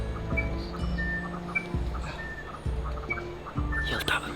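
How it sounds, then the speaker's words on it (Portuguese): Short bird chirps and calls played from a phone app repeat at intervals over a cluttered outdoor background, fairly faint, with low tonal sounds underneath. "O Kuzuko tem uma app que faz os barulhos dos pássaros."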